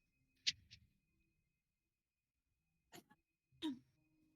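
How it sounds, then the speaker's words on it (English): A person sick with a cold coughs in short bursts: a sharp double cough, a pause, then two more rough coughs, close and fairly quiet. "I apologize for all the coughing."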